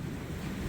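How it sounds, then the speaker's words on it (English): Strong outdoor wind buffets the microphone in a steady, loud rumbling roar that continues without a break. "Sorry about the wind, guys."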